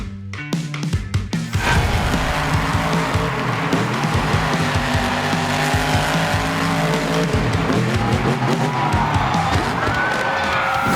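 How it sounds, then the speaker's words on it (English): A Spin Master Megalodon RC monster truck drives hard: a loud, continuous motor whine with tire scrubbing, starting with a few sharp bursts, then holding steady and close. "I'll be using my Spin Master Megalodon RC to get a little practice in before the big jump."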